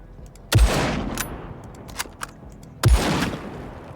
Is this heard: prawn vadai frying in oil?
no